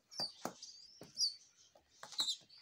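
Baby pigeons give short high chirps and squeaks in quick bursts during hand feeding, close by, with soft rustling between the calls.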